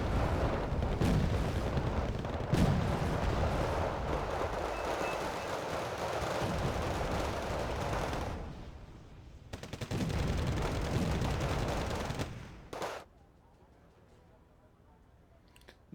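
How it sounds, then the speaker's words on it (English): Mortar fire in the Wargame: Red Dragon strategy game pounds friendly units: dense, rumbling explosions and battle noise fill most of the stretch, dropping briefly, returning, then falling to quiet, with a commentator talking over it. "I'm getting hit up by the mortars and Sansies"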